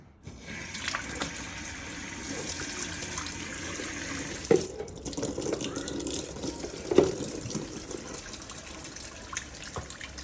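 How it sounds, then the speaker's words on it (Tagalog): A kitchen tap runs steadily as a plate is washed in the sink, a loud continuous hiss of water with a couple of brief clinks and splashes midway. "Nilakasan pa yung tubig"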